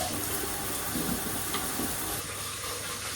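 Tap water runs steadily while protein shaker bottles are washed in a home kitchen, making a continuous broad hiss with faint clinks beneath it and no talking.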